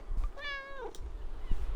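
A cat gives one clear, rising-and-falling meow close by, with some faint handling and background noise around it.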